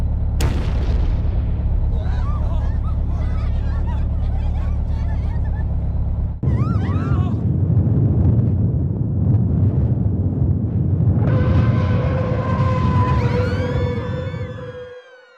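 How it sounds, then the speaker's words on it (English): An earthquake-caused bus crash in the video game Disaster Report 3: a sharp impact, then a long, loud rumbling roar, a second jolt, and sustained heavy noise with rising whistling tones before it fades out. "The bus we were riding crashed due to an earthquake."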